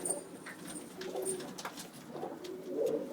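Pigeons of a flying breed in Ujjain cooing softly nearby, low murmuring coos repeating over a faint background, with no talking.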